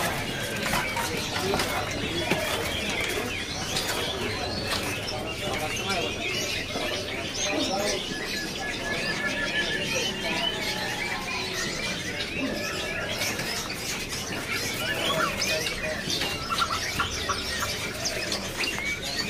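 Dozens of white-rumped shamas (murai batu) fill a bird seller's stock area with busy, overlapping chirps and squeaks, heard under people talking throughout.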